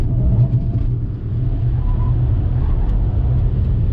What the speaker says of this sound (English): I really wanted to throw it into that corner to show you how that all-wheel drive system is working in the Altima